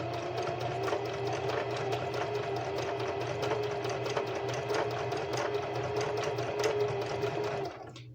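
A sewing machine stitches fabric in a steady, fast, continuous whir with a rapid mechanical pulse, close and loud, running for several seconds before slowing at the end.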